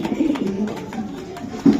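A racing pigeon coos close by in low, rolling bursts, with a louder coo near the end and faint background noise.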